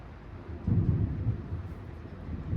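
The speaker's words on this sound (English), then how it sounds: "I know there's going to be more thunder in a second." Thunder from a thunderstorm rolls in as a low, muffled rumble, moderately faint, swelling after the first moment and lingering as a rolling murmur with no voices over it.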